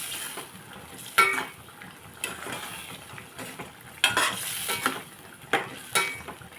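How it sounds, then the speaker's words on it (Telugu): A pan of raw prawn and brinjal curry sizzles softly and steadily while a spoon scrapes and clinks against it several times at irregular intervals. "బాగా ఉడుకుతుందండి"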